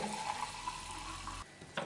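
Oil and mineral water are stirred together in a bowl as batter for a fasting cornmeal pie with potato and cabbage, a faint, brief swishing and light scraping heard up close.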